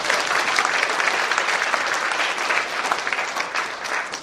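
A crowd applauds steadily and fairly loudly at a Korean church leaders' meeting in a hotel, a dense patter of clapping that holds throughout without pause.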